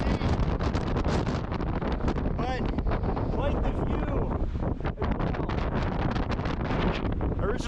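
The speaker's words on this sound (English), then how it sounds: "quite windy, as you can see." Strong wind on Mount Dana in Yosemite buffets the microphone in loud, rough gusts while a person speaks briefly underneath.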